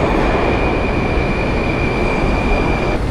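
A subway train runs through a marble-clad metro station, a loud continuous rumble of wheels and rail with a steady high whine over it, no voices.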